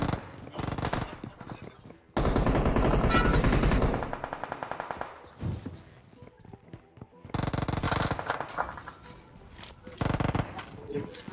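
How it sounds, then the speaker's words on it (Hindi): Rapid bursts of automatic gunfire in a mobile shooting video game, loud repeated volleys with short pauses and some single shots, with talk at times. "इधर से गोलियों की आवाज आ रही थी ऊपर।"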